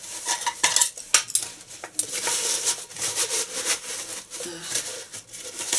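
A large round aluminium cooking pot from a hiking and boating kit is handled up close, giving a steady stream of bright metallic clinks and clatters, loud and continuous with no talking.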